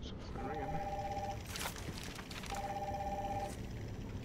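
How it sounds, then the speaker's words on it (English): A telephone rings in the video game Batman: Arkham Asylum, two long, steady electronic tones about a second each separated by a pause, heard over low game ambience and a brief clatter between rings. "Oh, it's a phone ringing."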